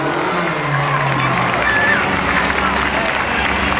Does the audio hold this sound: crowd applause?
yes